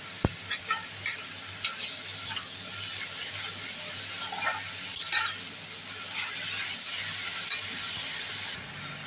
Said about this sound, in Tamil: இப்போ இந்த சுண்டல் எடுத்து இதில் போட்டுருவோம்